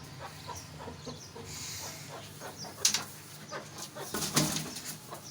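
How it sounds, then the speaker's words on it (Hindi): Day-old Plymouth Rock and Rhode Island Red chicks and a rooster cluck and peep in a pen, soft repeated calls with a couple of sharper louder squawks and flutters. "मैं आपको दिखाता हूँ कितना फ्रेंडली मुर्गा है ये देखो"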